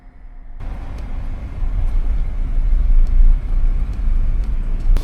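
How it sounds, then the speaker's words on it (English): Cars idle and creep in a traffic queue near a national park visitor center, a steady low engine and road rumble that swells gently, close and continuous with no talk. "Not a bad little spot to be stuck in traffic."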